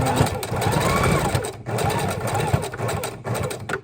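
A sewing machine stitches lace onto a junk journal made from a playing-card box, running in steady rapid bursts with brief pauses, while a voice talks over the whirring.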